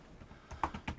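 Quick keystrokes on a computer keyboard while entering a library name into software, a few close, light clicks in an irregular burst with no talking.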